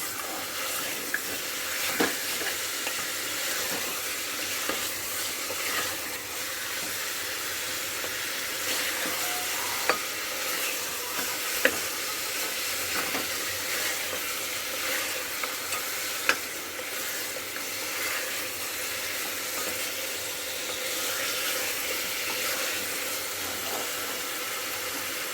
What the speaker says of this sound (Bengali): এইভাবে প্রথমে মাংসটা তেলের মধ্যে কষিয়ে নেবেন।